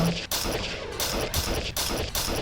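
A rapid stream of gunfire from the video game Fight Crab rattles in repeated bursts with brief pauses between them, loud and dense, with no one talking over it.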